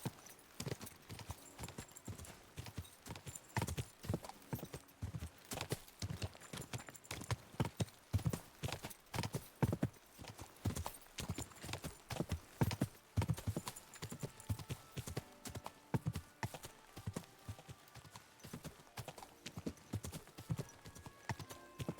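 Continuous clip-clopping of horse hooves at a steady trot in the video game Kingdom Come: Deliverance 2, sharp and close, with a brief neigh somewhere in the mix; game-like and clean.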